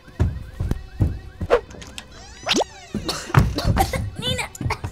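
Electronic alarm siren from toys in a pretend fire rescue in a toy town: rising and wavering synthetic tones mixed with clattering toy knocks and short bursts, fairly loud and close.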